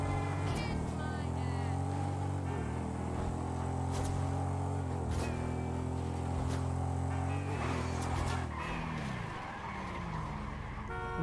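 A fast Ducati motorcycle races in GTA 5, its engine a steady loud drone with shifting pitch and brief skidding squeals, a voice occasionally speaking over it.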